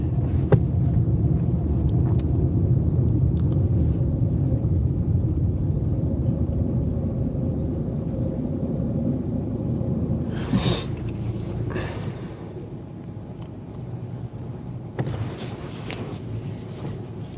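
A car drives through light traffic on Helsinki streets, a steady low engine and road rumble heard from inside, with a few louder whooshes from passing vehicles.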